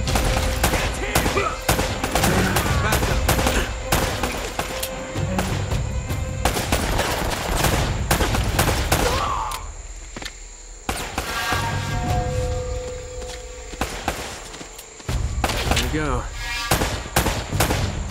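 Rapid bursts of automatic gunfire in Uncharted: Drake's Fortune near a wrecked plane, loud crackling volleys with short pauses between them, mixed with voices calling out over the shooting.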